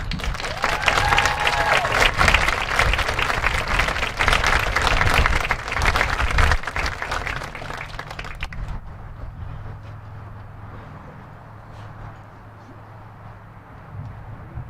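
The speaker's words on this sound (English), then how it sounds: "Let's give another round of applause for these fine students" Loud crowd applause at a high school graduation ceremony fills the first half, then fades to scattered claps and a quieter room with faint murmuring.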